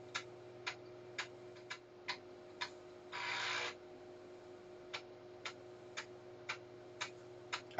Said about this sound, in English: Sounds like it's formatting the disk.